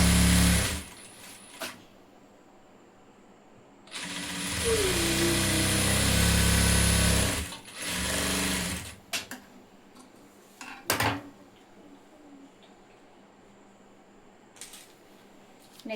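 A sewing machine stitching a blouse sleeve runs in a loud, steady burst of mechanical whirring and clatter for a few seconds, framed by brief handling clicks and quieter pauses.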